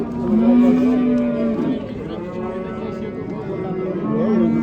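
Several cattle low at a busy livestock market in Bakhmal, Jizzakh, a long loud moo up front and others overlapping behind, with people talking throughout.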